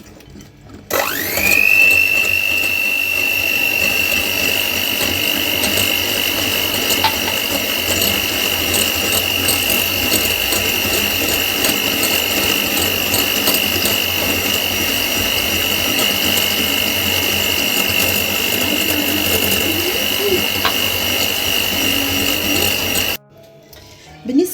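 Electric hand mixer whisking cake batter at steady high speed while oil is gradually poured in, a continuous whining motor drone with a rough whirring texture, running unbroken for over twenty seconds before switching off.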